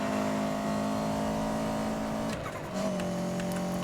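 A car accelerating in Need for Speed: Most Wanted (2012), a sustained engine drone holding steady and loud, then a brief shift in pitch as the revs change, with no talk.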